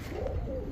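A male pigeon coos softly and steadily at close range, a low continuous murmur lasting under a second, with no voices present.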